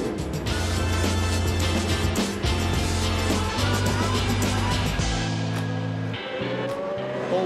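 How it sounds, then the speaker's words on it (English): Historic Formula One race cars with Cosworth engines screaming around Silverstone in a Masters Historic race, loud high-revving engine notes with gear changes and overlapping cars passing, continuous and close. "the historic Formula One cars, the Sir Jackie Stewart Trophy for the FIA Masters Historic F1s"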